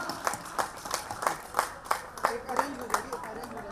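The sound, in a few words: loud applause at kabaddi tournament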